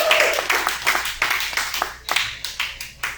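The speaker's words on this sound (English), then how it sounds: "Give me a clap if y'all can hear me." An audience at a live stand-up comedy show at Mister Tramps breaks into clapping: a loud, dense patter of many hands that swells and tapers in waves, close to the room.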